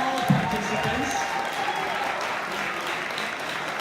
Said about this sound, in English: A round of applause to all participants.